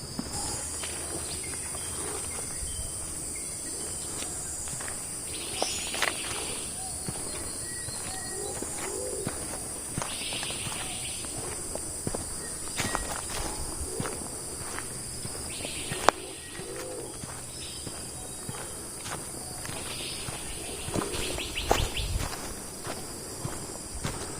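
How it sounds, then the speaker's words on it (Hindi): Birds call through a forest on the Andaman Islands, with scattered chirps and coos over a steady insect drone, plus occasional soft footstep-like rustles, without any voices. "सुनिए आपने पक्षियों की आवाज़ें।"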